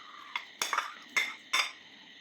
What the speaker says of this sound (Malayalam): നല്ലതുപോലെ ഇളക്കി കൊടുക്കുക